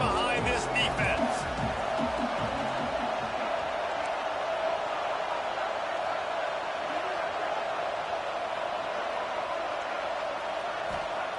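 Steady roar of a stadium crowd at a college football game, continuous and broad throughout, with a play-by-play announcer talking over it.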